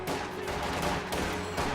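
Rapid rifle gunfire in a video game battle with riflemen and grenadiers fighting among trees, a crackling flurry of shots fairly quiet in the mix.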